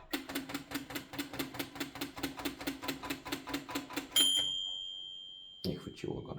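An Erika typewriter by Seidel & Naumann has its carriage slid along, giving a fast, even run of close mechanical ratchet clicks, then a ringing bell tone, a pause and a heavier clack as the margin slider is handled.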